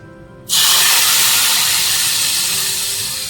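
A loud sudden hiss erupts as dried red chillies and curry leaves tempering in hot oil are poured into lemon curry, then the sizzle slowly fades away over a few seconds.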